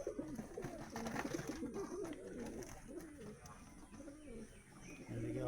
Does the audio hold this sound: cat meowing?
no